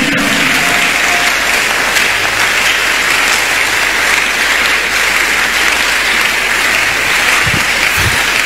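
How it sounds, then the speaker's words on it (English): A church congregation keeps up sustained, loud clapping for several seconds, forming an even, unbroken roar of hands with a few faint background sounds mixed in. "I want to see you clapping only for Jesus."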